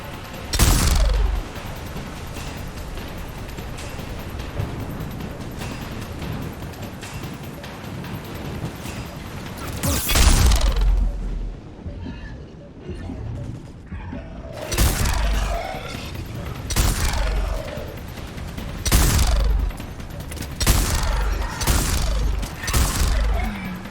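Firefight in the game Mass Effect 3, with repeated loud bursts of gunfire and impacts arriving in irregular clusters over rumbling background combat noise, including one quieter lull partway through.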